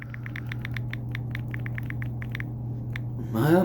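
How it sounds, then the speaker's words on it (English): Rapid keystrokes on a computer keyboard form a steady, even run of crisp clicks over a low background hum, ending in a brief louder burst of sound. "I'm glad I'm typing this live with you guys"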